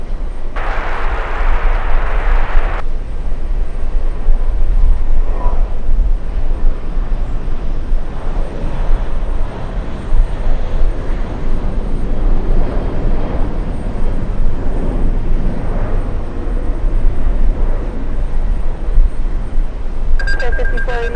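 Jet aircraft at JFK airport roar loudly and continuously in a broad rumbling wash, with a brief higher whine early on and faint radio voices mixed in.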